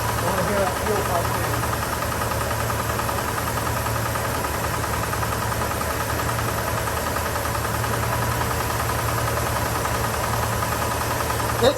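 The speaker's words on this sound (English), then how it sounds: "I want to hear that fuel pump" A barn-find Buick engine running, with its fuel pump in focus; a steady, even idle drone with mechanical ticking fills the whole stretch, close by, and a voice is faintly present beneath it.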